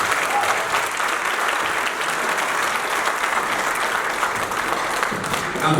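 Guests at a civil wedding ceremony applauding, a dense sustained clapping from a room full of people that continues evenly throughout.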